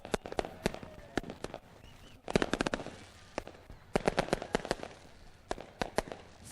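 Fireworks bursting over a speedway during a sprint car racing night, a rapid series of sharp cracking pops in clustered volleys with brief gaps, loud and close, no talking.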